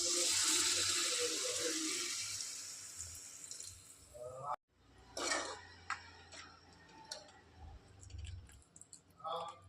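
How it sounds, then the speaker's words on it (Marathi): Water poured into a pan of mixed vegetables with pigeon peas gives a loud splashing rush that stops abruptly, followed by scattered clicks and light clatter. "आता यामध्ये भाजी शिजण्यापुरतं पाणी टाकू."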